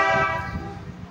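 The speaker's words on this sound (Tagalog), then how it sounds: "Pakinggan muna natin yung busina." A Mitsuba Dolse horn fitted to a Toyota Innova, eco mode switched off, gives one sustained, bright, multi-tone honk that starts strong and fades slightly over about a second.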